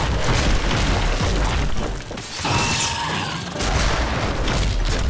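Loud grenade blasts from a crossbow launcher in a Star Trek co-op video game, heavy booming bursts with crashing debris, a brief lull in the middle, then another powerful explosion.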